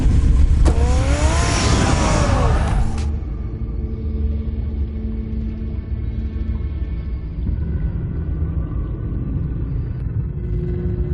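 A car in a Batman video game fires up with a loud burst and revs hard, then settles into a steady, rumbling idle that carries on alone for several seconds.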